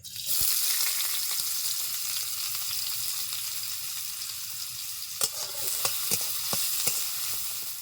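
Chopped onion hitting hot oil for a chicken momo filling, with a steady loud sizzle throughout and a few sharp stirring clicks near the end.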